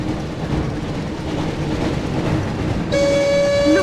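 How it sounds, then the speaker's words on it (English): Hogwarts Express train in the Harry Potter and the Chamber of Secrets PS1 video game, a steady loud rumbling roll joined near the end by a sustained horn-like whistle tone. "Looks like we found the train, Ron."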